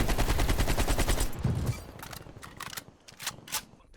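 Gunfire from the Call of Duty: Black Ops Cold War PC beta: a dense, loud rapid-fire burst that cuts off midway, followed by a few scattered sharper shots and clicks, with no talking.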